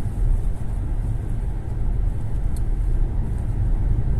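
An MG ZS EV electric car accelerating, heard from inside the cabin as a steady low rumble of road and tyre noise, with no voices.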